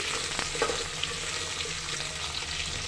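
Pulao ingredients frying in a pan until brown, a constant close crackling sizzle with a few light stirring clicks, no one speaking.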